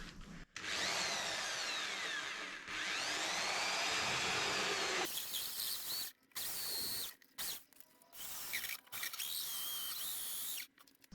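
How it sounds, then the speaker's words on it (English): A hole saw grinds steadily through wood at close range while building a flyball box, a long continuous cut followed by several shorter bursts with brief pauses. "that's where we will be drilling them through"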